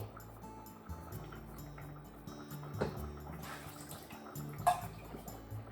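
Water running and splashing in a kitchen sink as braised pork belly for kakuni is drained after a cold-water rinse, with light clatter and a few sharp knocks over a quiet, steady trickle.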